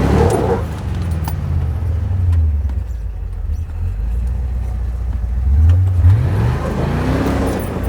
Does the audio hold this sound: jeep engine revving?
yes